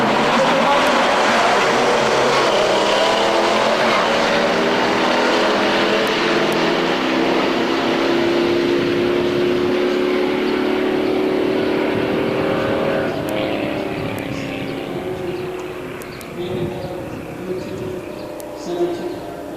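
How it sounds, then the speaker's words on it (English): A 1970 Charger and a 1972 LT1 Corvette roar off the line at a drag race in Norwalk, loud V8 engines revving and rising in pitch, then fading as they pull away into the distance. "We got the beautiful 70 Charger here against the 72 LT1 Corvette."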